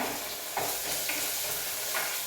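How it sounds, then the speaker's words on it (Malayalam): Sliced onions fry in a pan while being stirred, a soft continuous sizzle with a few scraping strokes of the spoon spaced through it. "ഇനി നന്നായിട്ട് ഇളക്കുക. സവാള ഒന്ന് ചുവന്ന് വരട്ടെ."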